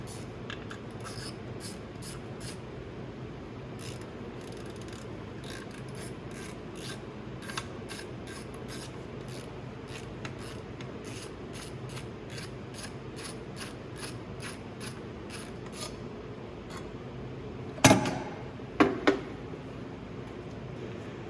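A socket ratchet turns in a long run of quiet, steady clicking while the recoil cover comes off an Arctic Cat Panther snowmobile, ending in a few sharp metallic clanks, with no talking.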